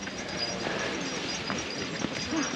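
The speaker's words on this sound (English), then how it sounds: "These horses are absolutely everywhere." Horses walking around the crater of Mt Bromo in East Java, hooves clip-clopping on dusty volcanic ground amid steady broadband outdoor noise; a few soft hoof knocks stand out, with no talk.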